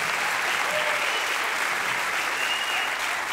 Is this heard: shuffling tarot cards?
no